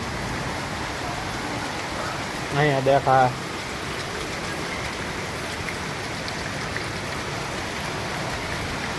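Heavy rain hisses steadily and loudly throughout, with a brief spoken phrase partway through.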